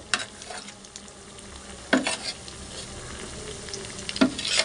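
Cutlets fry in oil with a continuous soft sizzle, broken by sharp clinks and spitting bursts as pieces are set into the pan.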